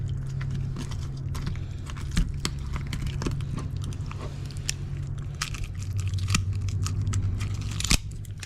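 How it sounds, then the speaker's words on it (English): Scissors snip and crunch through a redfish head, giving sharp, irregular clicks and crackles spread over several seconds against a steady low background hum, with no talking. "Not easy to do with scissors."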